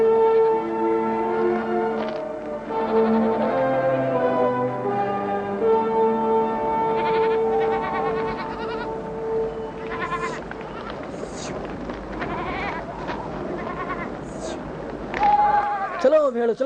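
Sheep bleating as a herder drives the flock along, several wavering animal cries rising over one another, fairly close and loud, with music and ringing tones underneath and no clear speech.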